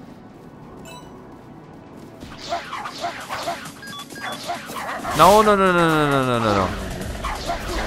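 A dog barks and yelps in a harsh, rising burst partway through, with a crash before it, set against game sounds in the Tokyo Jungle video game while someone talks throughout.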